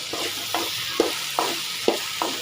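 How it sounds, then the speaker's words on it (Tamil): Okra sizzles steadily in a frying pan while a spatula stirs it in regular scraping strokes, about five or six across the stretch, close by with no talking. "வெண்டைக்காய் வந்து அப்படியே நல்லா ஃப்ரை பண்ணிங்க"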